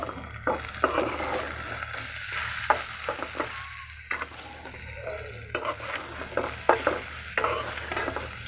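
A pumpkin and okra stir-fry is turned in a sizzling pan, with repeated scraping and clinking spatula strokes at an uneven rhythm over a continuous close frying hiss, and no talking.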